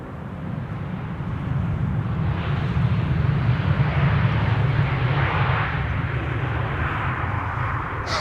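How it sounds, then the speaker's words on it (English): An EasyJet Airbus A319 arriving from Newcastle and landing at Amsterdam Schiphol, a broad low engine rumble that swells to a peak midway and then eases off, moderately distant, with no speech. "EasyJet A319 is coming in now,"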